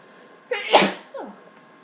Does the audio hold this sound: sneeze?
yes